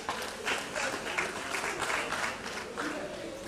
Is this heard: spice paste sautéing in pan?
no